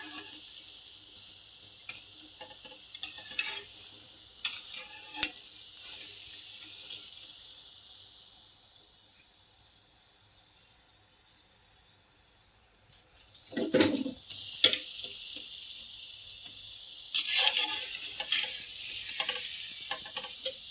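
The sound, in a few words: Mysore bonda frying in oil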